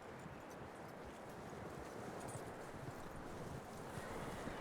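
Horse hooves clip-clopping in the Red Dead Redemption 2 video game, a steady dense run of soft hoof beats under a faint windy wash, moderately distant and continuous with no talk.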